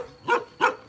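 A dog gives two short, sharp barks about a third of a second apart, close and fairly loud, with quiet room tone between them.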